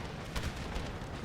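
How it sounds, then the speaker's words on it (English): A musket volley in Empire Total War, a dense rumbling burst of massed gunfire with a couple of heavier booms, distant and muffled, continuous across the short moment. "Volley fire, present!"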